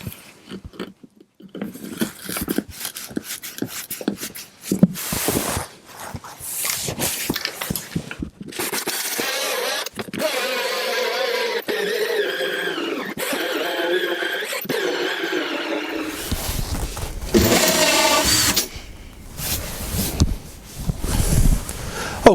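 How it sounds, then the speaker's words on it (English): A hole saw cutting a 54mm hole in a caravan wall panel, harsh grinding and rasping bursts that start and stop, with a long sustained cut in the middle, loud and close. "I'm going to take my hole saw now and we're going to cut the 54mm hole to"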